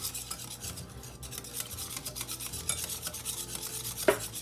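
A whisk scraping and rubbing rhythmically against a bowl as ingredients are beaten together for an oven-baked dinner, quick repeated strokes with a small clink near the end, no talking.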